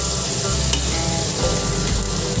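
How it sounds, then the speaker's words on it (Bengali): Sliced onion with salt and turmeric fries in a wok, producing a loud, dense, continuous sizzle close up with bursts of stirring and scraping, and no one speaking. "কড়াইতে আমরা পেঁয়াজ নুন হলুদটা ভাজা ভাজা করে নিচ্ছি"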